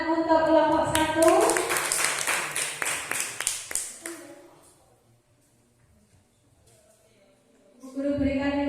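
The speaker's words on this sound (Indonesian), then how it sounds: "Tepuk tangan untuk kelompok 1." Classroom students clap in quick rhythmic bursts for a student group during a science lesson. The clapping rises after a teacher's voice, fades into near silence, and then talking resumes.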